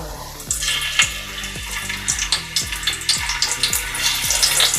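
Sizzling hot oil crackles steadily as onion goes into a cooking pot for a spicy prawn and raw mango curry, with a repeating low clatter of utensils underneath.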